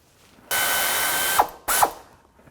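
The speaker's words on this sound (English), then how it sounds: "But I'll use a 10mm socket to get that bolt out." Ratchet with a 10mm socket backs a bolt out of the power steering elbow on a 2008-2017 Buick Enclave: a long, steady, close whirring burst, a brief pause, then a second shorter burst.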